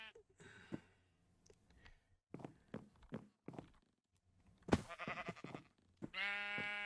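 A blocky video-game sheep bleats once near the end, a clear nasal baa following scattered footsteps and soft ambient sounds in a Minecraft-style survival world with a wool farm, while someone talks intermittently.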